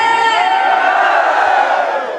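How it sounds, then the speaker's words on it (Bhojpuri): A crowd at a Navratri Durga procession shouting a loud devotional jaikara, a sustained unison roar of many voices close by for a couple of seconds. "जोरदार जयकारा लगाना है और संगीत के साथ साथ ताली बजाना है"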